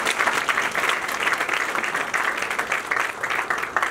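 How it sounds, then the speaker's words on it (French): An audience applauds the head of state at a decoration ceremony, a thick, sustained roll of many hands clapping at moderate volume, steady from start to finish with no voices over it. "Je voudrais qu'on puisse applaudir le chef de l'État."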